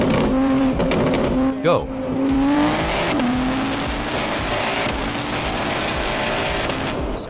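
Car engine in a tunnel drops a gear and then pulls hard, the revving note sweeping upward and echoing loudly off the walls as other traffic rushes past. A voice speaks briefly over it.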